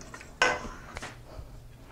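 A metal whisk tapped against a pot rim to knock off clinging herbs while making spaghetti sauce: one sharp ringing clink, then a softer second tap.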